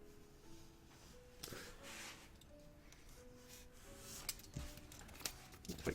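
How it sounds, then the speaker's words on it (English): A sharp knife cuts out the perimeter of a foam helmet piece, giving faint, intermittent scraping and slicing strokes with small clicks, close and quiet. "I'll just use a nice sharp knife here to cut out the perimeter"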